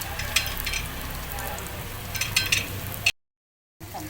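Bombil (Bombay duck) fish sizzling in hot oil in a Konkan-style home kitchen, a steady close crackle with brief sharper spits, cutting off abruptly near the end before resuming.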